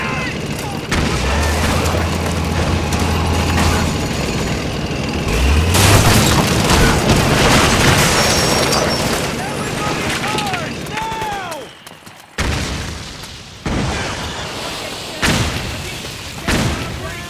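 Heavy booms and blasts from grenades in Metal Gear Solid 4, rolling over continuous battlefield gunfire and shouting voices, with several loud explosions spaced through the scene and a brief drop near the end.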